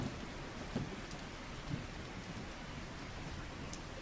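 Rain and thunder in the trucking game Slaverian Trucker during a night shift: a continuous rain hiss with a couple of low thunder rumbles rolling underneath.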